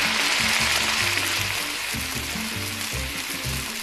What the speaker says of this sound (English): You want to fry till they're golden brown?